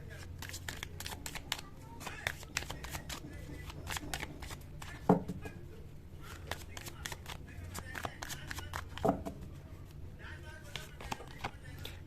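Tarot cards are shuffled and pulled from the deck during a reading, a continuous run of crisp rustling riffles and soft flicks under a speaking voice.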